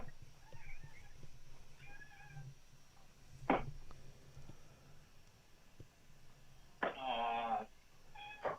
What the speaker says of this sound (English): Sounds like an Artemis cat to me.